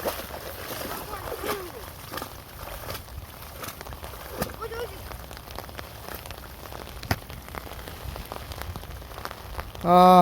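Steady rain patters and splashes on surfaces nearby, a continuous wash of drops, with a brief voice right at the end.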